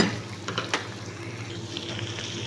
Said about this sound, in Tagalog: Maggisa-gisa tayo para sa ating biryani.